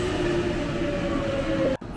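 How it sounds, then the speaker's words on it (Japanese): A JR 321-series seven-car electric train arriving at Itami Station rumbles steadily with a faint high squeal running through it, then the sound cuts off abruptly near the end. "1番線にも列車がやってきました。"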